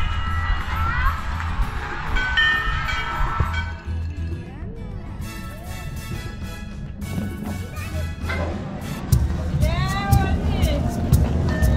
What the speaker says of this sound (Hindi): देखिए यहाँ भी बहुत भीड़ है क्योंकि न्यू ईयर है